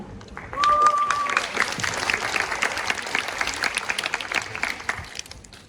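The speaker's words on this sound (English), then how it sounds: "Please give a round of applause for Ms. Jess O'Kelly." Audience applause fills a school literary arts festival hall, a steady dense wash of many hands clapping that swells quickly and holds throughout, with a brief tonal beep near the start.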